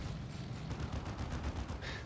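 Cannon fire in a multiplayer king-of-the-hill video game: a fast run of loud, punchy blasts repeating almost continuously for about two seconds, with no talking over it.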